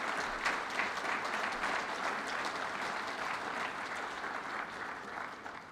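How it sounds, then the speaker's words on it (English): Steady applause from an audience at a state budget presentation in Utica, honoring the legislative delegation, dense and even clapping sustained throughout with no talk. "let's give your delegation a round of applause"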